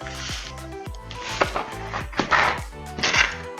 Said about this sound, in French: Je viens racler le sucre qui est collé avec l'huile.